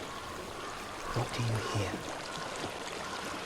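A flowing stream in the video game Hellblade: Senua's Sacrifice makes a steady, soft rushing wash throughout, while a voice speaks briefly over it.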